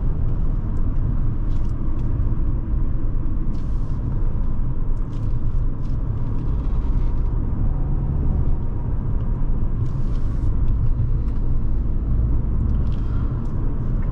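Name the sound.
2012 Audi A4 2.0T Quattro driving on the road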